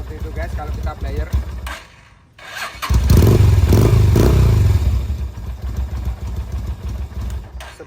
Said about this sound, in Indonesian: suara dari knalpot motor Kaisa Ruby yang standar